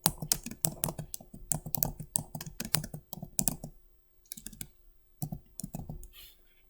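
A class name typed on a computer keyboard, with quick runs of close key clicks broken by short pauses, then a few final taps alone.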